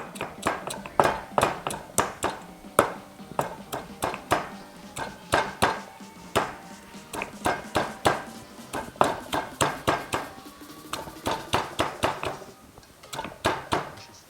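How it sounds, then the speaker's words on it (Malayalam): Shallots are crushed inside a pot in a fast series of sharp, rhythmic knocks, close and punchy, coming in quick bursts with short pauses. "നമുക്ക് ആവശ്യത്തിന് ഉള്ളി നേരന്നിട്ട് ചതച്ചെടുക്കാം."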